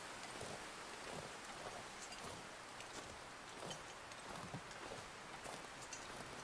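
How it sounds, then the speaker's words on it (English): A cold headwind blowing across the frozen wilderness of the survival game The Long Dark, a steady, dense roar with faint gusting swells that never lets up, with no voices over it. "We are not going to get a reprieve from the headwind."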